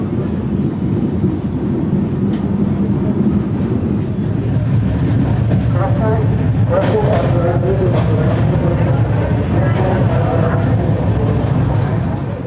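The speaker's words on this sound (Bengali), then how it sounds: "প্ল্যাটফর্ম থেকে আমাদের ট্রেন ছেড়ে দিল।" A passenger train pulls away from the platform at Bishnupur with a steady, loud low rumble of wheels and carriages. The rumble rolls on without a break, and voices talk faintly partway through.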